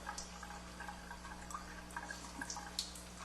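Gentle, easy stream of water running from a Jupiter Melody JP104 water ionizer, a quiet steady trickle with faint drip-like splashes and a low background hum.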